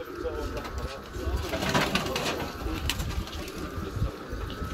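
Pigeons cooing outdoors, soft, low burbling calls mixed with some fluttering under a background of voices talking.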